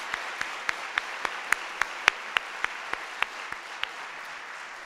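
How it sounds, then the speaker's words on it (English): An audience at a university ceremony claps for an award-winning professor: a sparse, even round of applause, with about a dozen distinct loud claps standing out at a regular pace over a soft continuous patter. "Let's give Stephen a round of applause"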